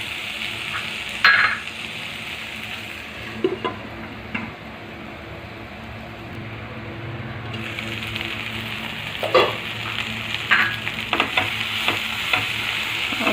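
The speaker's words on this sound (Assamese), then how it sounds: "ভেন্দিখিনি ইতিমধ্যে হাফ ফ্ৰাই হৈছে।" Okra (bhindi) sizzles steadily in a pan for Maharashtrian bhindi bhaaji, with a spatula stirring and clinking against the metal in a few sharp bursts.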